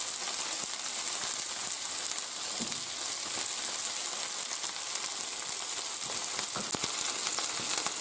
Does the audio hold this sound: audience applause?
no